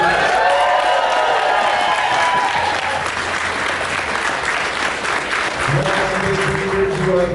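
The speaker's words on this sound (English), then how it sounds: "Please give them a round of applause." Dense, loud applause from a live audience at an Edgar Allan Poe-themed speakeasy show in downtown Riverside, steady throughout with a crowd murmur and a few scattered cheers mixed in.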